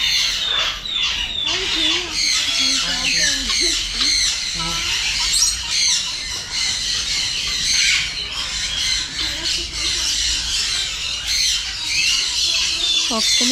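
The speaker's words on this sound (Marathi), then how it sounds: "फक्त पक्ष्यांचाच आवाज आहे." Dense chorus of many birds squawking and chattering at once across a bird park, a steady layered din of overlapping calls near and far with no break.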